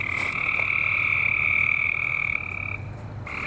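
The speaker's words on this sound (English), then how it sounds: "I hear the bullfrogs" Bullfrogs croak at night outdoors in North Carolina, a continuous droning trill with a steady pitch that stays fairly close and moderately loud and carries on alone for a few seconds with no voices.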